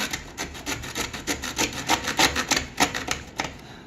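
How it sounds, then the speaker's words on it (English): A hand saw cuts through a pipe under a kitchen sink in steady, rapid back-and-forth rasping strokes, close and continuous, with no talking. "Mark it and cut it."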